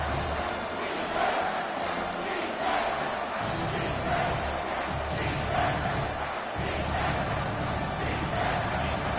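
Football stadium crowd roaring and cheering continuously, a dense sustained wash of voices with swelling surges, loud and steady throughout.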